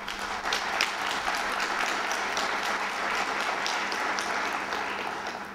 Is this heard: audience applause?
yes